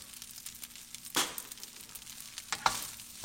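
Green onions hit a hot frying pan, giving a steady sizzle with two sharper bursts of crackle as they land, close and fairly loud with no talking.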